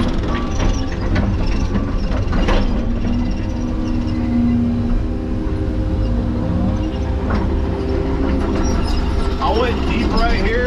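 A heavy earthmoving machine strips topsoil at a mountain dirt-work site, its engine rumbling steadily up close while metal clanks and rattles come through intermittently.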